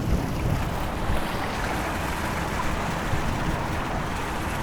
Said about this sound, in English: Oh, this is a fountain. You can't even really tell that this is all water running along the side here.